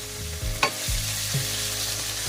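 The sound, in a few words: chicken sizzling as it is sautéed in a pan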